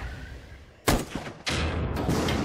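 A weapon firing in the video game Ground Breakers, with two heavy booming discharges about half a second apart. The second blast leaves a sustained roaring rumble.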